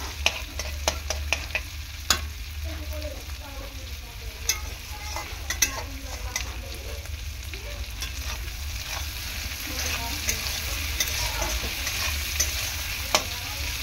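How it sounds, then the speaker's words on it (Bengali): Garlic sizzles in hot oil in a home kitchen while taro stolons are being cooked, with a steady frying hiss and repeated sharp scraping clicks of a spatula stirring the pan, with no voices. "রসুনটাও সুন্দর ভাজা হয়ে গিয়েছে"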